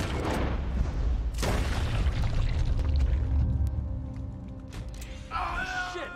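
Gunshot in Red Dead Redemption 2, two loud, sharp blasts near the start echoing into a low rumble, followed by quieter game sounds and a brief rattle at the end.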